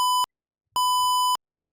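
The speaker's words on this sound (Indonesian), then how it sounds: "Maka dia buzzer berulang kali dalam waktu yang tidak terus menerus" An IoT parking sensor buzzer emits two clean electronic beeps, a short one followed by a longer one after a brief silence, loud and isolated.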